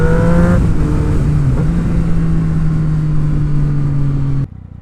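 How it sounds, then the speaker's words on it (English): A motorcycle fitted with an aftermarket exhaust holds a loud, steady high-rpm drone close by, with a brief pitch shift early on, before cutting off abruptly near the end. "Jesus Christ, I love this exhaust so much."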